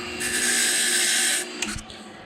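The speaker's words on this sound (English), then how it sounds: "go ahead and deburr it here" A freshly cut key is deburred on an HPC Blitz key machine, giving a steady high-pitched whirring grind for just over a second, followed by a few brief clicks and rattles as it winds down.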